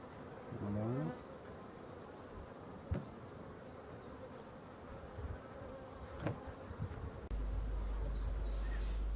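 Honeybees buzzing at a hive during the waggle dance, a steady close insect drone with a few passing louder buzzes throughout.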